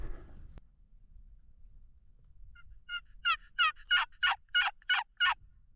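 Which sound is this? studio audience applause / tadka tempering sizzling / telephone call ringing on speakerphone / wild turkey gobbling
wild turkey gobbling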